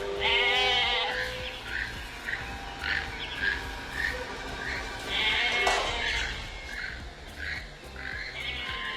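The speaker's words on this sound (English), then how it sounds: "the first animals you see may not be wolf dogs. In fact, it might be goats." Goats at a wolfdog sanctuary bleat repeatedly, several overlapping calls, some close and loud and others fainter, with a few faint bird sounds in the background.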